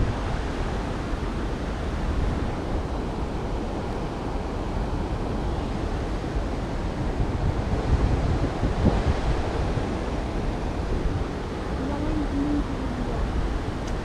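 Steady broadband rush of water pouring over a weir on the River Thames, continuous and fairly loud, filling the scene like surf or wind noise with no clear breaks.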